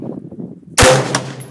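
A single sharp, loud report from a Stag Arms AR-15 rifle with open sights, fired at a plinker target 100 yards away, cracking out of a quiet, faintly rumbling outdoor background and then trailing off in a brief echo.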